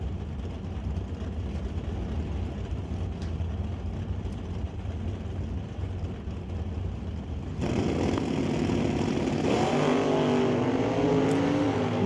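At an NHRA Stock and Super Stock drag race, a new generation 427 and a Chevelle roar down the track, with a steady engine drone that swells louder midway as the cars rev and pass.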